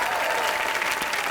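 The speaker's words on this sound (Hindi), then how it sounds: "शाहरुख खान के लिए जोरदार तालियां" Studio audience of the Colors TV comedy show Comedy Nights Live gives loud, sustained applause, a steady close roar of many hands clapping throughout.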